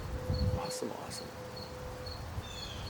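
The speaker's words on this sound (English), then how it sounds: "With the crickets joining us" Crickets chirp outdoors at night, with a thin repeating trill and short pulsed bursts that continue steadily at moderate distance, while someone speaks briefly near the start.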